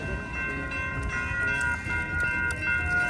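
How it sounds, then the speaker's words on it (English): A train passes a road crossing with a steady, loud rumble, and sustained tonal ringing, like a horn or crossing bell, sits over the noise throughout. "Well, we gotta wait for the train now."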